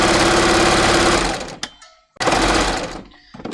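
A domestic sewing machine runs fast and steadily, chaining off with nothing under the needle, then stops briefly and starts again in a second close, loud burst.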